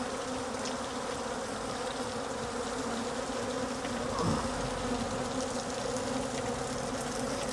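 A dense swarm of honeybees drones steadily and close by at a hive, a continuous buzzing hum with a sharper, agitated edge from aggressive bees, without any talking.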